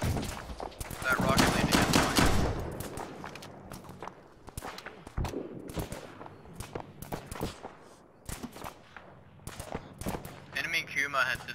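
Arma 3 gunfire on the Tanoa map: a dense burst of close shots, then sharp scattered reports and automatic fire with varying distance, sounding under radio-style talk from players.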